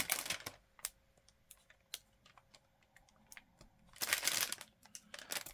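Diamond painting resin drills click and rattle together, with scattered light ticks and two denser bursts of clattering, close and faint, with no talk.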